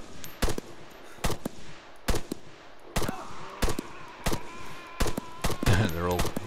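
Gunfire in the video game Arma 3 cracks out in loud, close bursts of sharp shots at irregular intervals, with a brief electronic tone near the end.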